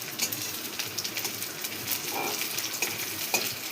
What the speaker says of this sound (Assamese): পিঁয়াজ ভাজি আছে।